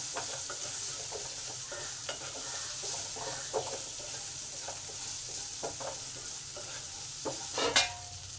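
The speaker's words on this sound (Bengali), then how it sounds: "আলুটাকে দু মিনিট কষে নিলাম যাতে আলুর কাঁচা গন্ধটা চলে যায়" Potatoes stir-fried in a pan with salt and turmeric, a constant sizzling hiss broken by soft rhythmic scrapes of a spatula and one brief louder scrape near the end, close up and without speech.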